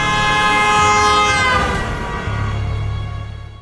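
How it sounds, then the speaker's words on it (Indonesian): A train horn blares loud and close in a long sustained blast, its tone shifting partway through, with rumbling rail noise underneath and no voices. "Jaswinder sengaja membunyikan klakson yang sangat kencang untuk menyadarkan Sikandar"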